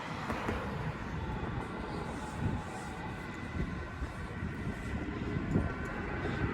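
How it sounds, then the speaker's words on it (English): A steady rumbling roar of a Frankfurt number 11 tram rolling past nearby on a city street, with a continuous low mechanical drone and rattle throughout. "There's the number 11 tram."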